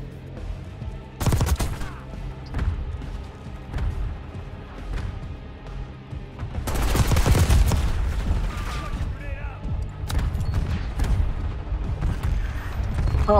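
Unsilenced gunfire in the video game Black Ops 6, with sharp loud bursts and rapid volleys of shots, a heavy cluster in the middle and more scattered shots after, with a little game noise between.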